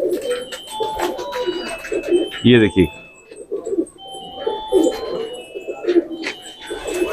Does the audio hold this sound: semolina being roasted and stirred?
no